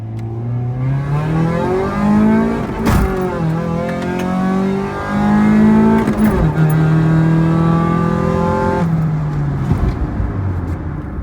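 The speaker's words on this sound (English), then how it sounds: "it revs out a lot cleaner than what it used to" Turbocharged Honda Integra with a B18 engine revving hard through the gears during a pull, rising engine tone climbing repeatedly with sharp shift breaks between, loud and close from inside the car.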